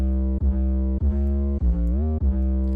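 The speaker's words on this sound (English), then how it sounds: "The 808 in the intro sounds a little bit something like this." Distorted 808 bass from the intro of a moombahton remix: loud, deep sustained notes repeat in a steady pulse with short gaps, one sliding upward in pitch, alone with no other instruments.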